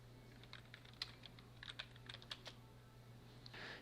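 Keystrokes on a computer keyboard while working in Adobe Illustrator, a quick run of light, irregular clicks over a steady low hum, fairly close and quiet, with a brief flurry at the end.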